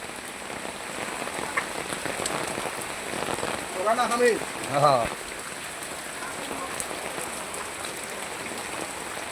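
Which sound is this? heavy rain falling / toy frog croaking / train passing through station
heavy rain falling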